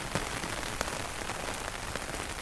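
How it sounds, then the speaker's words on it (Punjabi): Heavy rain pouring down over farmland, a constant, dense hiss of drops striking surfaces with occasional sharper patters, even in level from start to finish with no voices. "ਲਓ ਜੀ ਮੀਂਹ ਹੋਰ ਤੇਜ਼ ਹੋ ਗਿਆ ਏ"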